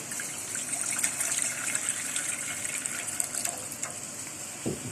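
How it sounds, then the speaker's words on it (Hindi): Water gushes and splashes steadily into a pan for making sugar syrup, a continuous bright pouring hiss with a soft clunk near the end. "इसमें 2 मग पानी के"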